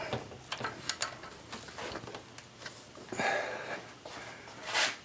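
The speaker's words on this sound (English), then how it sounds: "I've switched my ratchet wrench over to Tighten." A ratchet wrench tightening the upstream oxygen sensor on a 1997 Toyota Camry V6, giving close, scattered clicks and short metallic rasps amid quiet handling noise.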